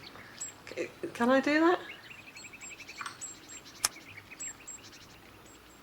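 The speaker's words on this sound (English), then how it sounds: "There's a lot of birds, a lot of birds. There needs to be slightly less bird sound." Birds chirping and calling in the Botany Manor video game, with bright tweets scattered throughout and a brief burst of harmonic song near the start, all under a person's speech.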